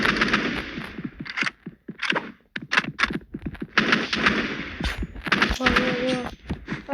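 Rapid bursts of gunfire in Roblox Rivals, a series of sharp shots in quick clusters, loud and close, with scattered pauses between volleys.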